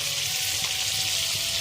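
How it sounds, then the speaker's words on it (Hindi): Fish frying in a pan at home, a steady close sizzle with a faint tonal hum running through it, no speech. "यहाँ पे घर पे मछली फ्राई हो रहा है"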